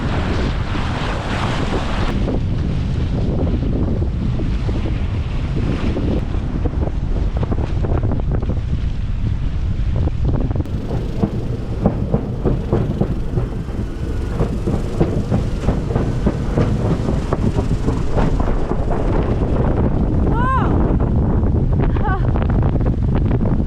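Strong wind of about 29 knots sweeps across a sailboat at sea amid developed wind swell, a loud, steady roar with buffeting gusts on the microphone and a wash of waves throughout.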